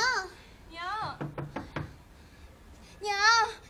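A quick burst of about five sharp knocks on a door, with a voice calling out before and after.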